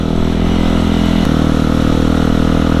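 Motorcycle engine at night on a ride in Bandung, running loud and close with a steady throbbing drone at about half throttle, shifting pitch slightly partway through, no talk.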